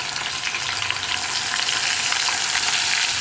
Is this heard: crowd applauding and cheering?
no